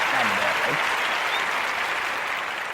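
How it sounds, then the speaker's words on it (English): An audience applauding, a dense continuous wash of many hands clapping at steady loudness, with a voice talking briefly over it near the start. "Round of applause for the city."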